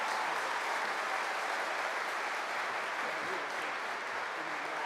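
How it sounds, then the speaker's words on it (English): A large graduation ceremony crowd applauds, a steady, dense wash of clapping from a big hall that holds even throughout without pause. "A round of applause"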